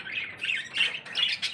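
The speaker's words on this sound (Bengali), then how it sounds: "এই যেখানে অনেক পাখিগুলো আছে" Many small birds in a park chirp and squawk in quick overlapping bursts, a busy, close flock chatter with no talk over it.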